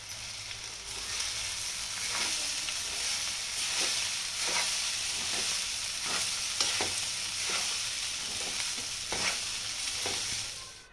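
Onion poha, flattened rice with coriander, is stirred in a hot pan, steady close sizzling with a regular rhythm of spatula scrapes about once a second throughout, no voices.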